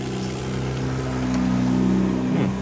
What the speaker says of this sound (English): Somebody without a muffler driving by.